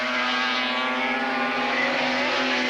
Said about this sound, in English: Gives you an idea of how hard he's braking that bike.